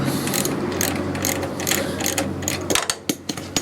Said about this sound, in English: So that's a 1/2 inch ratchet